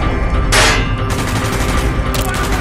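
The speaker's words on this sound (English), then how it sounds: "Gunfire's drawing attention." Gunfire erupts in Call of Duty Black Ops in the Baikonur, U.S.S.R. mission, loud close bursts of automatic weapons fire over a rumbling battlefield background, with two sharp volleys roughly a second and a half apart.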